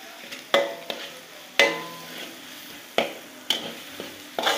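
Genjer flowers are dry-fried with spices in a pan, the spatula scraping and stirring in sharp strokes about once a second over a soft background sizzle, close up, with no speech.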